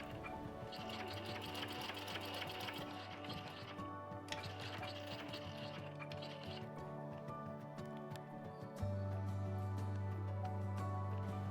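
A sewing machine stitches fabric for an appliqué bag, its needle running in a rapid, even mechanical whir that starts, pauses briefly and resumes, close and moderately quiet with a faint voice present.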